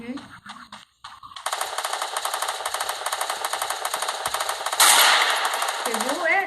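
Rapid automatic gunfire from a video game firefight, a dense rattling burst that runs for several seconds and swells louder near the end, with brief voices before it starts.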